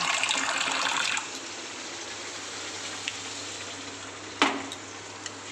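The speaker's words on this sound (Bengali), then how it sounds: "এবার আমি জল দিয়ে দেবো" Water splashes into a hot pan of chili-spiced fish curry base with a brief rushing hiss, then fades to a quiet simmer with a couple of small clicks.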